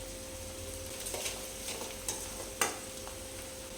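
Chopped green chillies being stirred into a sizzling pan while cooking Chinese Manchurian, a steady fry hiss with a few soft scraping strokes and one sharper clink near the end, close and alone with no talking.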